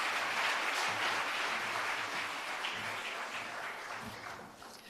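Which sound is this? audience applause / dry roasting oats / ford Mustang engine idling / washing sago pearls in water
audience applause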